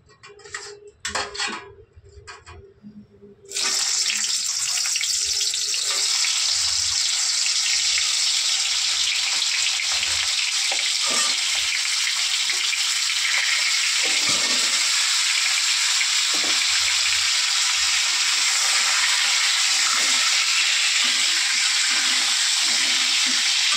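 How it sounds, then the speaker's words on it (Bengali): Pointed gourd (potol) pieces hit hot mustard oil in a pan with a brief clatter, then a loud, steady, hissing sizzle of frying that continues unbroken at close range. "দেখো তেলটা ভালো গরম হয়ে গেছে, এবার পটলগুলো ভেজে নেব।"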